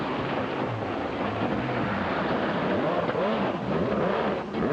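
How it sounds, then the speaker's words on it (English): A rally car at the 1998 Bulldog Rally, with water in the works, drones along with an uneven engine note and rough popping. It is heard at a moderate distance as a continuous rumble, with no voices over it. "Brian Bell's car popping and banging there, probably got some water in the works."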